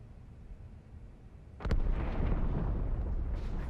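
A deep, loud explosion in Halo 2 Anniversary bursts abruptly out of quiet ambience and then rolls into a sustained rumbling roar that stays heavy to the end.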